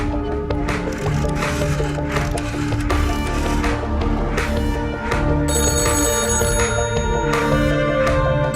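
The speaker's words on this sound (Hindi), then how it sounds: "अकबर के कैबिन का फोन लगातार बज रहा है।" An office telephone rings over and over in a cabin, its bright electronic trill repeating against a busy, layered background of other sounds.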